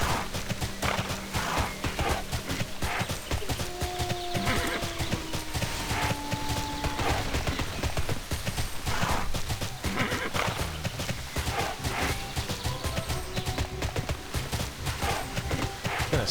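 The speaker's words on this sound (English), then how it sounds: "Donkeys." Donkeys bray repeatedly in the game TERA, with steady hoof clops beneath them amid dense, continuous game music and ambience.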